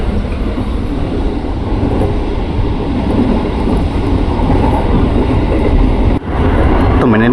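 Inside the connecting cabin between cars of a running KRL Commuter Line train, a loud continuous rumble and rattle fills the space, with a brief dip and a short squeal near the end.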